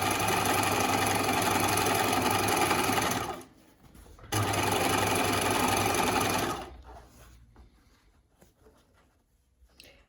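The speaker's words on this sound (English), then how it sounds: "I'm now putting the 3 raw edges together at the top and stitching down from the top" Sewing machine stitching three raw edges of a scrubs top together at the neck along a seam, running loud and steady for several seconds, pausing briefly, then resuming before stopping.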